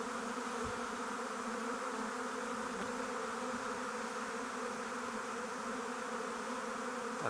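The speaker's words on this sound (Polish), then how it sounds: "Pszczółki się uwiesiły na gałęzi." A large swarm of bees hangs settling on a tree branch, producing a dense continuous buzzing drone with layered hum tones, steady and close throughout.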